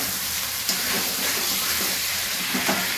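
Fried potatoes are stirred in a frying pan over a dense, constant sizzling hiss, with a couple of brief scrapes and no voices.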